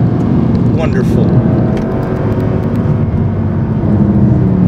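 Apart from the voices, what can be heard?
Mercedes C 63 AMG Black Series coupé driving at Laguna Seca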